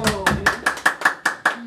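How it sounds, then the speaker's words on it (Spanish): Applause at a birthday party with mariachi musicians, heard as a short burst of rhythmic, evenly spaced claps with voices over it. "Ese aplauso bien bonito"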